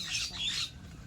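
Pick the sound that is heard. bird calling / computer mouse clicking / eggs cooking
bird calling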